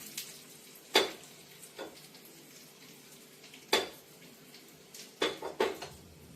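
Garlic and dried red chillies sputter faintly in hot oil for a tadka, with a few sharp metallic clinks of a spoon against the pan standing out above the low sizzle.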